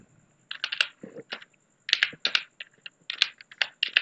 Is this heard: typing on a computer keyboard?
yes